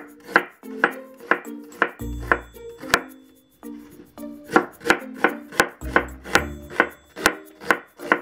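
A knife mincing yellow onion on a cutting board, a steady run of sharp, close chops with a couple of brief pauses and heavier board knocks in between.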